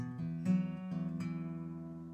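An acoustic guitar plays the intro to a song as a soft, close run of picked notes, with a few distinct plucks that ring out and decay, no talk.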